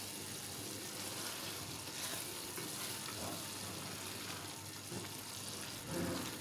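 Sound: frying torai (ridge gourd) in a pan

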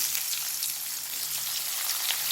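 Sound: onions sauteing in oil in a kadai

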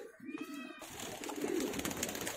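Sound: pigeons cooing

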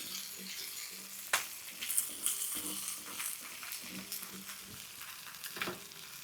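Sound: fish pieces frying in a pan

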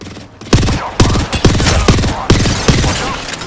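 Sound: gunfire in the video game Apex Legends

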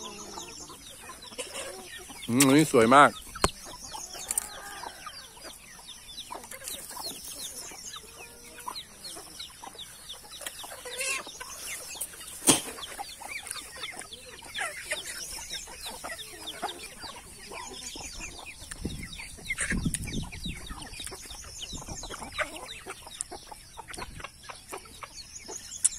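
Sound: village chickens clucking

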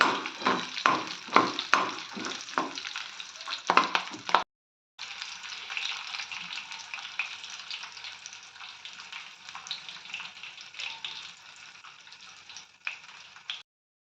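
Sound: frying split green chilies and dried red chilies in tempering

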